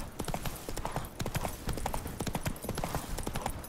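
Horse hooves clip-clopping at a quick riding pace in The Witcher 3, a brisk continuous rhythm of hoof falls heard up close with game ambience beneath.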